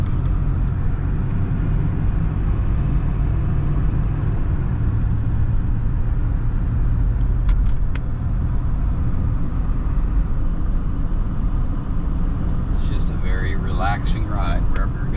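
Interior of a 1987 Lincoln Town Car while driving: a steady low road and engine rumble fills the cabin throughout, with a few faint clicks and rattles near the end.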